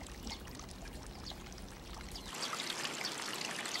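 Water poured and splashing into a riverside channel during washing up in a Japanese Satoyama village, a steady rushing flow that grows brighter and louder partway through, with no voices.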